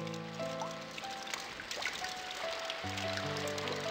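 A passing shower of rain in the Dreamcast game Omoide ni Kawaru Kimi, soft steady patter and trickling running beneath sustained background music notes, fairly quiet throughout.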